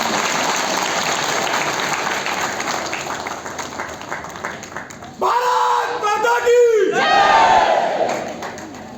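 Crowd at a rally applauding in dense clapping, then breaking into loud cheering and shouted chants halfway through, with a loud voice over the crowd near the end.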